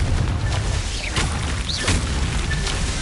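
A Confringo spell in the Hogwarts Legacy video game, a loud, rumbling blast with rolling low booms and crackling bursts that fill the whole moment, layered with swooshing magical effects and no talk.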